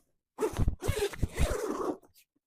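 A zipper is pulled open on a Lift5 eFoil bag during an unboxing in rainy weather, giving several close, quick rasping bursts over about a second and a half, then stopping.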